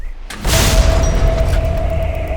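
An M109L self-propelled howitzer fires a single shot from inside the gun, a sudden heavy boom that cuts in sharply and then rolls into a long, loud rumbling decay.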